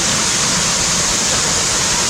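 Sing Sing Angin waterfall in Bali pours in a loud, dense, steady rush of falling water heard up close and filling the scene without pause.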